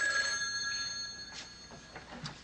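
A telephone bell rings in a phone booth, a bright metallic trill that fades out over a couple of seconds amid faint background noise.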